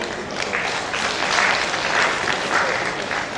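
Steady audience applause at an annual gender studies seminar, a dense even patter of many hands that swells slightly midway and continues without speech.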